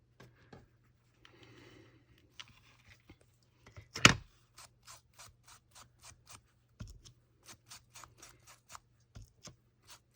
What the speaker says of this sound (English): Just tearing this even, more even.